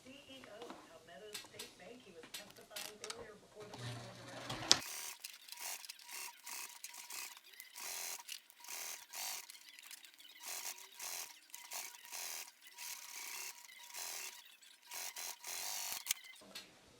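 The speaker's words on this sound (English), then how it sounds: "Now I'm going to go ahead and sew that down." A sewing machine stitches binding down onto a fabric wristlet in a quick series of short mechanical bursts with brief pauses, close by, after a few seconds of voice at the start.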